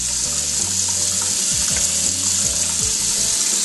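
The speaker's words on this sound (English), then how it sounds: "You want to rinse off that heavy starch that's on the rice." Rice is rubbed and rinsed in water to wash off starch, a steady close wash of splashing and swishing with grains shifting against the bowl.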